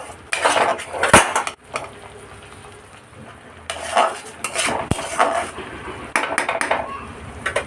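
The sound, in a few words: stirring ground roasted spices into paneer masala in pan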